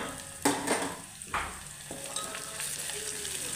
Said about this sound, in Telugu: అలా ఫ్రై చేసుకుంటే సరిపోతుంది